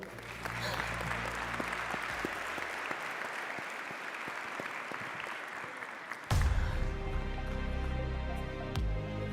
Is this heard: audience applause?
yes